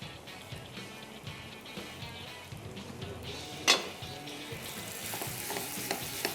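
Tortillas toasting on a grill pan for quesadillas, giving a steady soft sizzle and crackle throughout, with one sharp clink partway through and slightly busier sizzling near the end.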